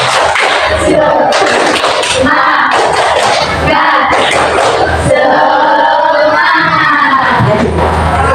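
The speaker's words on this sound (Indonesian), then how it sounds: "Tepuk semangat." A school class does a rhythmic spirit clap, loud massed clapping mixed with children chanting and shouting together in a lively, echoing room.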